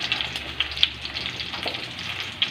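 Eggplant fries in cooking oil in a pan, giving a soft, steady sizzle with small pops and a faint stir, close and fairly quiet.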